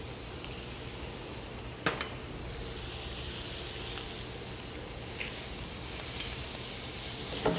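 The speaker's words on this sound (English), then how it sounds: "The first thing I'm going to do is start browning some butter." Butter browning in a hot pan gives a steady close sizzle and hiss that swells gradually, with a sharp utensil click near the start and a few faint knocks.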